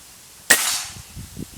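A single sharp, sudden crack of a PCP air rifle shot at 29 metres, close and loud, followed by a brief fading tail and faint low thumps.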